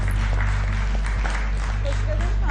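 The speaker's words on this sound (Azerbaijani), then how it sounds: "Alqışlayaq." Audience applause, a steady wash of clapping from a crowd, loud and sustained throughout with a voice faintly underneath.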